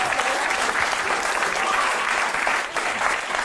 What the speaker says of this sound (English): Ladies and gentlemen, give Maddie a round of applause.